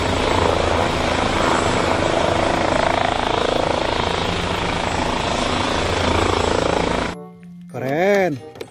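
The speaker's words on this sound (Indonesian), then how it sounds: "Helikopter, teman-teman." A toy helicopter gives off a loud, steady electronic rotor-and-engine whir for several seconds, then cuts off. Brief high, warbling vocal-like sounds follow.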